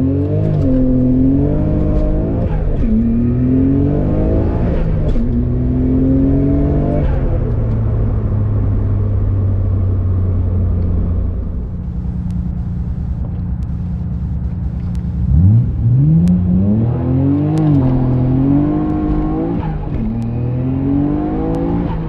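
Nissan R32 GTR with a manual gearbox and around 485 brake horsepower accelerating hard through the gears on a 0-60 run, its engine note rising, dropping at each shift and rising again, loud and close.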